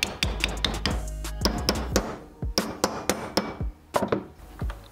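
Hammer blows on a steel repair patch, folding it over to form a lip during welding repair on an Escort Cosworth; a steady series of sharp, ringing metallic strikes, close and loud, some in quick pairs.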